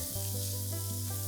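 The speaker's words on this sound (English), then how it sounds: "Let's crush these like so and fry these till they're lightly golden brown in color" Sliced onions and cumin seeds fry in a pan for palak paneer, giving a steady close sizzle with a low constant hum underneath, no voices.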